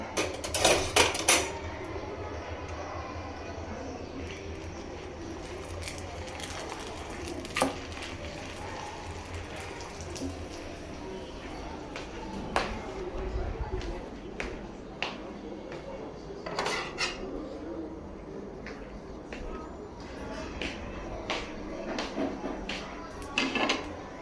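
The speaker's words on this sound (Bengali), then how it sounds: "তাই পরোটা ভেজে দিতেছি।" Paratha fries in a pan in a home kitchen, with steady clatter from utensils and pans and occasional metal knocks over a constant background hiss. It is moderately close throughout, and a voice can be heard faintly in the background at times.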